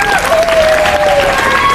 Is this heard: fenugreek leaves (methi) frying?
no